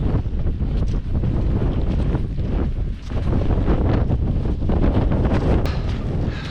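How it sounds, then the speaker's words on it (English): Strong wind buffets the microphone on an open hillside at Fan Fawr in the Black Mountains of the Brecon Beacons, a steady loud rumbling roar that swells and dips briefly but never stops across the whole stretch, with no talking. "Wind's picked up."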